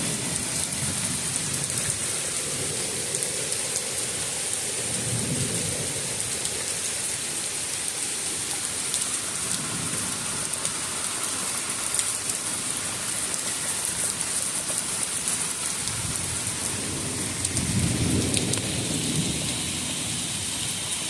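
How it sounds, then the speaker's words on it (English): A passing summer thunderstorm with steady rain hiss throughout, several low rolling thunder rumbles swelling and fading at intervals, the last one loudest, no talking. "Looks like we had a good little storm. Definitely needed the rain."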